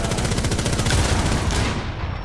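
Rapid automatic gunfire in the tactical shooter Rainbow Six Siege, a dense burst of close, loud shots in quick rhythm that cuts off near the end.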